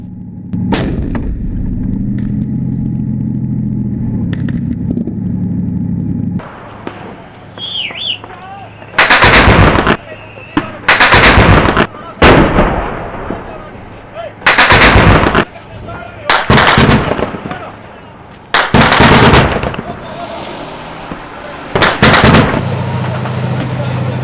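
A tank firing high-explosive fragmentation shells in close urban fighting in Jobar, Syria: roughly eight booming, very loud blasts in irregular succession, each cutting through a background of engine rumble and faint chatter.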